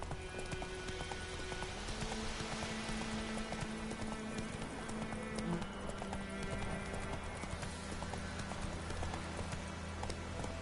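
Horse hooves clip-clop steadily while riding in The Witcher 3, the rhythmic hoofbeats sitting over a constant low ambient rumble and faint game atmosphere throughout.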